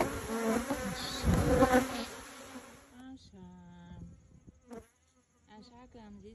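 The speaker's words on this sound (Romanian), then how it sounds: "Am zis că sunt la albine." Honey bees drone loudly around beehives at an apiary during an October honey harvest, a thick close buzz for about three seconds that thins to scattered passing buzzes and then near-silence.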